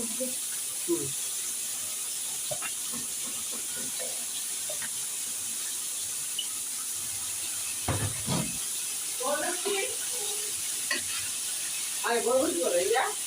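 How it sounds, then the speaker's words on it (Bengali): Cabbage fries in ghee in a pan. A soft, quiet sizzle hisses with occasional stirring clicks, and faint voices murmur in the background toward the end. "আর একটু ঘি দিয়ে নিচ্ছি এবার ভেজে নেব বাঁধাকপি"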